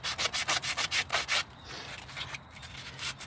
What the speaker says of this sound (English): So go ahead, and you can sand the face of that.